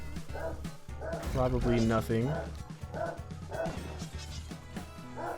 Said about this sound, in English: Apologies for the dogs going crazy about something outside.